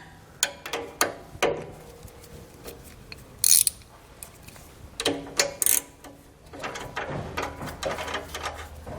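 Wrench working a nut off a front anti-sway bar end link on a 2016 Ford E-Series, giving sharp intermittent ratcheting clicks and metallic bursts, close by with brief pauses between strokes.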